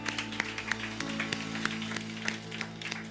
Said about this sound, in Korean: 우리 하나님께 감사의 박수 한번 올려드립시다.